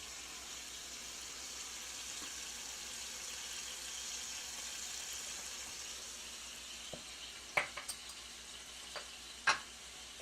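Calamari and pasta sizzle steadily in a pan as seasonings of salt, pepper, cayenne and oregano are stirred in, with a quiet continuous fry and a few sharp utensil clicks near the end, close with no talk.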